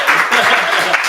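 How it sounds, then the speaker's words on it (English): Audience applause fills a room at an end-of-project community event, a dense, loud burst of clapping lasting about a second with voices mixed in. "Round of applause for Shirley."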